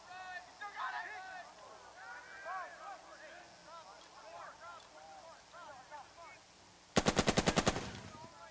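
Rapid burst of heavy gunfire from big guns in the WWII strategy game Burden of Command at Palma di Montechiaro, a loud rattling volley near the end after radio-style voice chatter.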